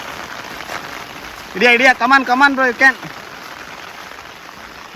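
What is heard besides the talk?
rain falling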